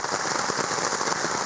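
Steady, dense rain patters on a kayak campsite at dusk, a constant close hiss of drops on the surface with no voices.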